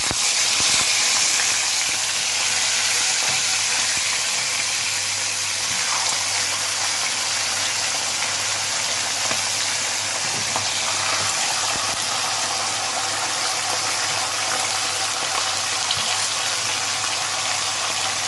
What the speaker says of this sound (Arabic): هنبدأ ننزل الفراخ.